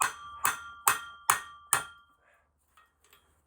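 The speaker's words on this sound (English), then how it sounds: "give her some hammers." Five sharp, ringing metal hammer blows strike the U-joint caps on a Volvo 240 driveshaft, evenly spaced about half a second apart, close and loud, followed by faint clinks.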